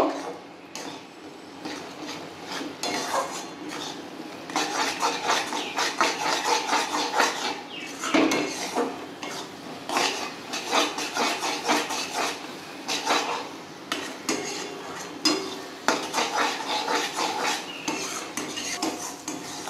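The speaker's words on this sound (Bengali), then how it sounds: "এবার আমি মশলার মধ্যে ডিমটাকে ফ্রাই করব।" Egg frying in spice masala in a pan for a dhaba-style tarka, heard as repeated scraping and clinking of a metal spatula against the pan with steady stirring, close and continuous with a faint hiss underneath.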